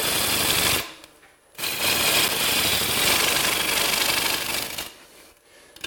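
A bowl gouge rides the bevel to cut a wooden platter on a lathe, making a steady close rasping, chattering hiss that stops for a moment, resumes for several seconds, then stops again.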